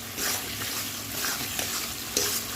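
Potatoes being stirred into cooked-down spice masala in a pan for a cauliflower fish curry, with a soft continuous sizzle and a few scraping and clinking strokes from the spoon, close by and fairly quiet.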